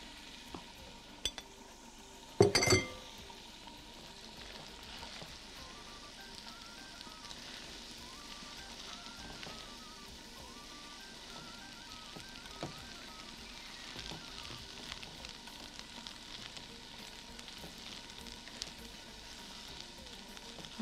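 Boiled pasta is tossed in a pan with butter, minced garlic and black pepper, a faint continuous sizzle and crackle with a sharp clatter early on as it goes in, then quiet steady frying.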